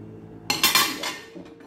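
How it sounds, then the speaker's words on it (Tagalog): Pots, pans and cutlery clink and clatter during dishwashing after a meal, with a quiet lead-in followed by a dense burst of metallic knocks and scrapes, close and moderately loud. "Maghugas na ako."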